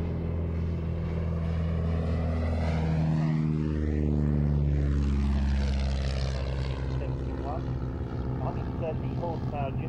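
A vintage propeller aircraft with a Gypsy Major Mark 1 four-cylinder engine drones loudly, its tone rising and then falling as it passes close by, and a steady engine hum continues afterward.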